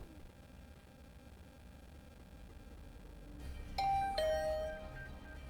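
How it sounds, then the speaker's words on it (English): A two-tone ding-dong doorbell chime rings once in a visual novel game, two clear bright notes standing out over a quiet hum of background music. "another sound echoed through my room. The doorbell."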